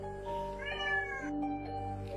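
A cat meows insistently to be let out, a clear drawn-out call rising and falling over about two seconds, close and alone with no talk.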